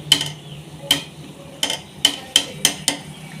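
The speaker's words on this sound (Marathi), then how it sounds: "तर आपण हे वडे आता काढून घेऊ तेल छान असं निथळून घ्यायचं" Fried chana dal masala vadas are lifted from hot oil with sharp metallic clinks of a utensil against the pan, about eight separate taps at an uneven pace over soft background noise.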